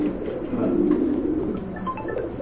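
Lahori pigeons, a black-and-white pair of male and female with feathered feet, coo in low continuous rumbling calls close by, with faint bird chirps layered above.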